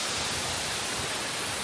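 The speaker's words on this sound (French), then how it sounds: "des chutes d'eau de cette belle cascade." Waterfall cascading on the lush, rain-soaked side of Tahiti, a steady broadband rush of falling water, dense and even throughout with no other sounds.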